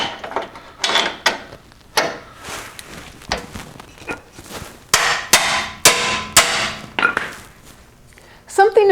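Hard, sharp blows ring out one after another at an uneven pace as a hammer strikes a bare metal skid plate on a Toyota 4Runner frame, close and loud, with brief pauses between hits.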